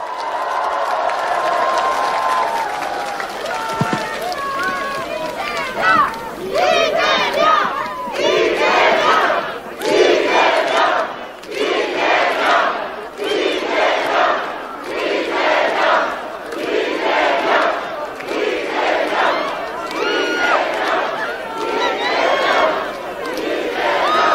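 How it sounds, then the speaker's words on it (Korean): A large crowd at a presidential campaign rally in Jeonju, South Korea, cheers and chants in loud, rhythmic bursts with shouting and some applause, sustained throughout. "여러분 큰 박수와 함성 부탁드립니다"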